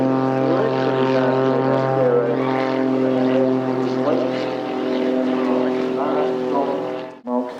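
A single-engine propeller warplane at the Eastbourne Airshow, its one powerful front engine droning loud and steady with a strong, sustained harmonic buzz before cutting off abruptly near the end; a voice is faintly present beneath.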